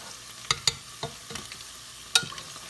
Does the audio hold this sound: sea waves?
no